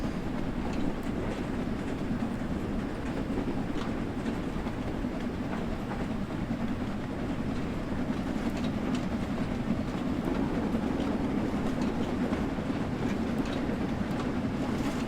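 A train in Train Sim World 3 runs steadily at speed, with a continuous low rumble and faint rhythmic clickety-clack of wheels on rails, even and unbroken throughout.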